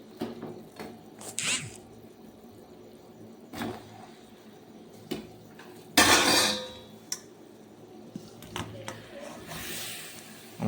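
Boiled amla going into sugar syrup in a small pot: scattered clinks and scrapes of a spoon on metal, a louder burst of clatter and splashing midway, then softer knocks.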